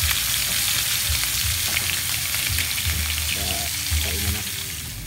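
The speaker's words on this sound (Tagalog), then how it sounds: "Lapit na maluto yung pirito ko guys." Fish frying in a pan for a home Filipino meal, a steady dense sizzle and crackle running throughout with faint movement and low background noise.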